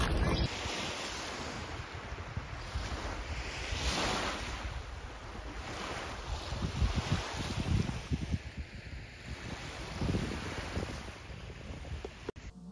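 Waves wash steadily onto a lake beach, rolling in repeated surges, with strong wind buffeting the microphone throughout.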